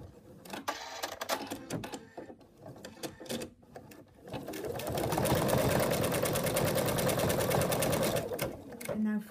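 An embroidery machine works on a monkey design with fabric taped down in the hoop, giving scattered clicks and knocks at first, then settling into a loud, rapid, steady stitching run before stopping.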